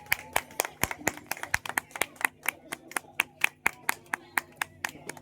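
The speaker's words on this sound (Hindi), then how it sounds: "लोगों को आगे बढ़ाना है, तो बिल्कुल जोरदार ताली करें" An audience at an RCM business meeting claps in fairly rhythmic, sharp bursts, a dense run of loud hand claps with no voice speaking over them.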